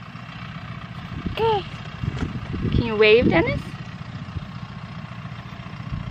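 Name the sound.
tractor engine running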